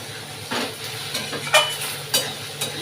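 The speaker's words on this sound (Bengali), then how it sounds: "একটু পেঁয়াজ ফোড়ন দিয়ে ভাজলে বেশ" Okra fries in a pan over an onion tempering, sizzling steadily while a utensil stirs and scrapes in several sharp bursts.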